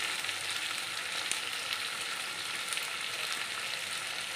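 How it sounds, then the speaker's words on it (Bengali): Pieces of coloured capsicum and chilli fry in a pan for an egg bhurji, giving a continuous bright sizzle with faint crackles throughout and no talk. "এগুলো একটু ভাজা ভাজা হলে কয়েক টুকরো লঙ্কা ফাটিয়ে দিয়ে দিলাম"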